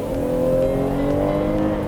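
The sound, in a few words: Chevrolet Traverse V6 engine accelerating hard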